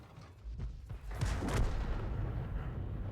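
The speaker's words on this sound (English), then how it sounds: "Dialing in for his next shot. Rounds out." An AMX 13 tank cannon fires a shell in War Thunder, a deep, muffled boom that rolls into a sustained low rumble lasting to the end.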